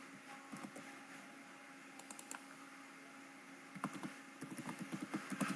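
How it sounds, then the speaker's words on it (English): Quiet bursts of computer keyboard typing of SQL commands, light rapid clicks in short clusters separated by pauses, recorded close in a still room. "SQL command I'm typing."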